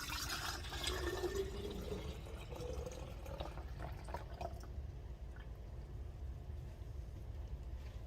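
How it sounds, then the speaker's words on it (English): Oat milk poured into a sterilized jar, a soft steady liquid trickle and gurgle running the whole time, louder and splashier in the first few seconds, with no talking. "I'm going to pour it into a sterilized jar"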